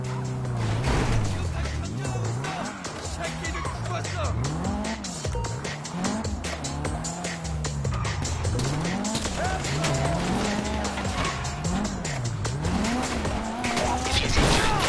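A car tears around in a GTA game, its engine whining up and down in repeated revving swoops while tires squeal and the car scrapes and crashes throughout, loud and continuous.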